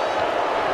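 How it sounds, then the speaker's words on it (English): A WWE 2K20 video game arena crowd cheers for John Cena at a Money in the Bank 2020 pay-per-view match, a brief, dense and steady roar of many voices that holds at an even, fairly loud level throughout. "John Cena is still loving the reaction from the crowd"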